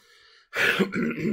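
One close, gruff throat clearing from a person with a chest infection follows a brief near-silence, loud and rasping.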